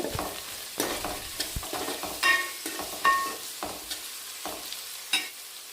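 Small carrot pieces stir-fry in a pan for coriander rice, with rhythmic scraping strokes and light clinks of a spoon over a continuous close sizzle and no talking.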